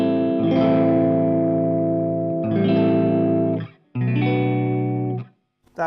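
A Stratocaster on a coil-tapped single-coil setting plays clean, sustained chords through a Dallas Scala tube amp, three strummed chords ringing fairly loud and alone, with short gaps between them.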